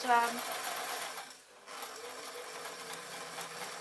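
A sewing machine stitches steadily over a fabric hem, a continuous close mechanical whir with a brief pause partway through before it runs again.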